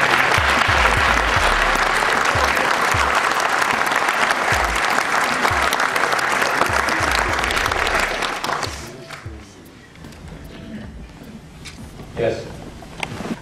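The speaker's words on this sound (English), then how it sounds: "I'll be prepared to accept a generous round of applause" A lecture audience gives a long, steady round of applause after a speech, dense and loud for about nine seconds before fading to scattered claps and room noise.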